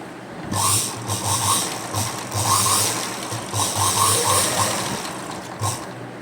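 A sewing machine runs zig-zag stitching along a saree fall in steady bursts, its motor whirring with a fast rhythmic clatter, close and fairly loud, pausing briefly between runs.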